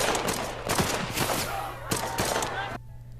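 Rapid bursts of gunfire in a film execution scene, several sharp cracks in quick succession over a low rumble, then a sudden cut to near silence.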